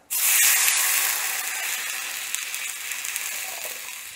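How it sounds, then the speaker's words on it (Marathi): Water hits a hot mustard-seed tempering with asafoetida, curry leaves, turmeric and chili for raw mango aamti, bursting into a loud sudden hiss that slowly fades into a steady crackling sizzle. "आता आपलं जे आपण पाणी फोडणीला टाकलेलं आहे"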